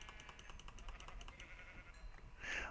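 Sheep bleating in Minecraft, a fairly steady wavering bleat under background game sounds, with a brighter burst near the end; moderately loud and close.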